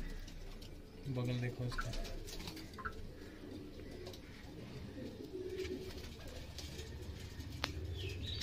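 Pigeons in a breeding setup cooing softly with occasional wing flaps and chirps, faint and a little distant, while someone speaks briefly over them.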